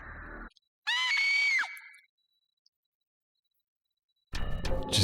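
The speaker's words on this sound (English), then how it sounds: "Just as I called out her name, I heard a scream from downstairs." A woman screaming from downstairs in the video game Kamaitachi no Yoru, one long, high, wavering shriek of about a second, loud and distinct, set between other game sounds and silence.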